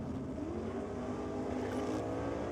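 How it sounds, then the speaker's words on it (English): Turbocharged Holden VL drag racing car accelerating hard down the strip, a loud, steady engine roar with rising tone, heard continuously at a drag racing theme night. "Such a different sound between them, isn't it? Yes, very that much heavy. So. The turbocharger making a big difference"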